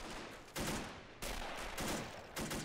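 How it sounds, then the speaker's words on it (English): Covering fire in the World War II strategy game Men of War Assault Squad 2 comes as repeated bursts of gunfire, each loud surge followed by a slight fade, heard alone with no talk. "But he's got some covering fire."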